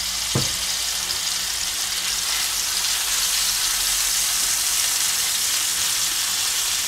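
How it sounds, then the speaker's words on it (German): Minced meat sizzling in a pan for a tortilla lasagne, a steady hissing fry throughout with a brief utensil knock near the start, close by and without talk. "Das braten wir jetzt schön durch."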